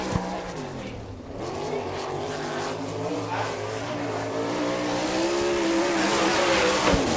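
Sprint car with the All Star Circuit of Champions at Kokomo, Indiana in 1999, running a lap: a loud, continuous engine roar with a steady pitch that rises and falls slightly through the turns, close and sustained.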